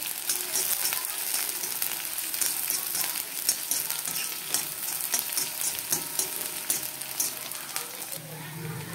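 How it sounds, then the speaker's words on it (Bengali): Chopped onions sizzle steadily in hot oil as they fry toward a reddish brown, with occasional stirring scrapes cutting through the constant crackle. "ভালো করে এগুলোকে একটু লাল লাল করে ভেজে নেব"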